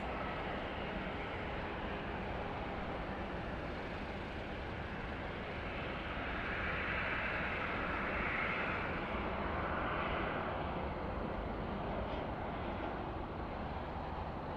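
A Southwest airliner at Phoenix Sky Harbor airport gives off a broad, distant jet roar that slowly swells and lingers as it approaches, steady and continuous with no voices over it.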